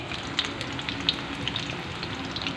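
Rolls frying in hot oil for iftar give a steady, close crackling sizzle with a few sharper pops, and no one speaks.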